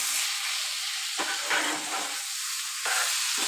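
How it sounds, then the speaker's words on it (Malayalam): Beef roast masala being stirred in a hot pan, a steady sizzle and frying hiss with soft scraping strokes of the spoon at intervals, close and fairly quiet, no talk. "എല്ലാം ഇളക്കി കൊടുക്കുക"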